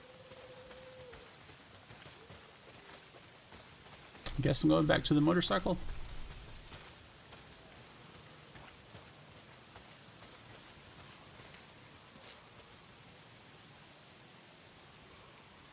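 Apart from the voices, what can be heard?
rain pouring in the video game Days Gone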